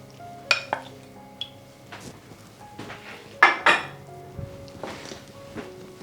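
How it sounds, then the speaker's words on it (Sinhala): Blueberries being gently folded into muffin batter in a bowl, heard as scattered clinks and scrapes of a utensil against the dish, with a few sharper knocks, close and moderately quiet, no voices. "දැන් මම මේකට බ්ලූබෙරි ටික එකතු කරලා මම මේකෙදි බීට් කරන්න යන්නේ නැහැ. මම මේක හොඳට ෆෝල්ඩ් කරනවා."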